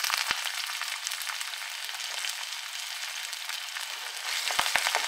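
Chopped onion and curry leaves sizzle in hot oil with a steady, crackling fry that holds at an even level throughout, plus a few sharp clicks near the start and end.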